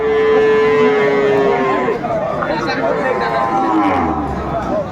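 Loud, drawn-out mooing from a Friesian dairy cow at a rural cattle market in Dinajpur, one long low call followed by a second wavering moo close by, over a background murmur of the crowd.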